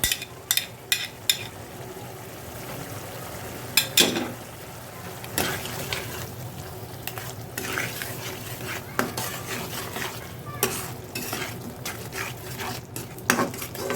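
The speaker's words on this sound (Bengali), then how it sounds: "আমি এখন রসুন বাটা এবং আদা বাটা দিয়ে দিলাম" Garlic and ginger paste frying in a pan for a fish dish, a soft steady sizzle under intermittent scraping and clinking of a stirring utensil against the pan.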